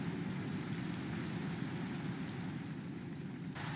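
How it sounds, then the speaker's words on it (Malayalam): In Minecraft, rain falls as a steady, soft, even hiss of drops for several seconds, with no voices. "മഴ പെയ്യാൻ തുടങ്ങി."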